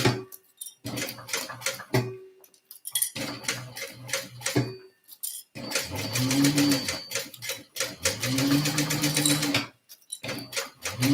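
A sewing machine stitches fabric in bursts of rapid, even mechanical whirring, separated by short pauses. It is close and loud, with a light tick between runs and brief talk during the quiet gaps.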